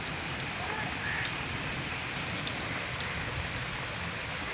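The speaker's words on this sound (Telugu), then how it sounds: "చూడండి ఫ్రెండ్స్, వర్షం మొదలైంది చూసారా." Steady rain falls in a village, a soft, even hiss of drops on surfaces with a few faint patters, continuous and moderately distant.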